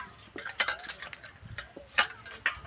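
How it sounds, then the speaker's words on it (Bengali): A scaled rohu fish being cut in a home kitchen, with irregular sharp clicks and metallic knocks of a blade against a board or dish, close and fairly quiet, with faint speech in the background. "মাছটা কেটে নিচ্ছি"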